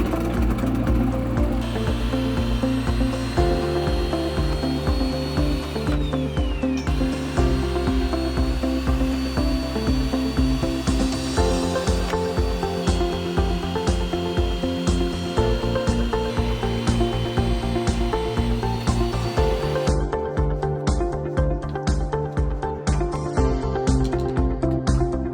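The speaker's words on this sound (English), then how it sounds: "This is my threading machine where I'm able to make precise cuts and ultimately get the job installed." A pipe threading machine cuts and threads gas line pipe, a steady loud mechanical drone with a pulsing rhythmic chatter that continues throughout, close by with no voices.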